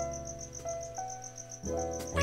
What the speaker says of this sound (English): I'm sure you can hear the cricket in the background.